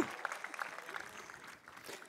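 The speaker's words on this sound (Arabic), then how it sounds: "تحيه صفقوا لهم شجعوهم" Audience applause at a Toastmasters club event, a short burst of scattered clapping that tapers off over about two seconds, heard faintly with a voice mixed in.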